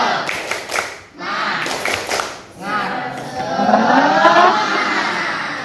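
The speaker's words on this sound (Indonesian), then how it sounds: "Tepuk semangat dulu" A classroom of seventh-grade students doing a rhythmic spirit clap together, bursts of group clapping with pauses between them, followed by a longer, denser stretch of clapping and voices from the class.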